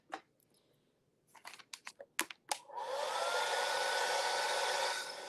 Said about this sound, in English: Blow dry it just for good measure.